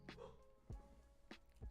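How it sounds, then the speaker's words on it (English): A dog barks somewhere below in the house, giving four short, faint, distant barks spaced through the moment with no talking over them. "That's my dog down there."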